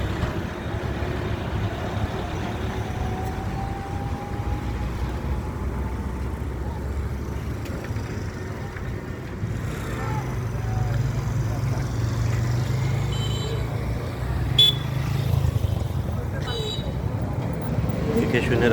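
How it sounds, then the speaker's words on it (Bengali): Steady roar of cars, trucks and buses at a busy crossroads at Dayra Park, a continuous wash of engine and road noise with a heavier low rumble building in the second half, under a person talking. "এটা হলো দয়রা পার্ক চৌরাস্তা, অনেক ব্যস্ততম একটা রাস্তা।"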